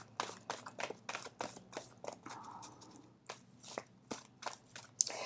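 Tarot cards are shuffled by hand in quiet, close, rapid riffling bursts with short pauses between them and no talking.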